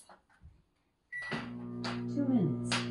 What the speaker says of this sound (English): Microwave for 2 minutes.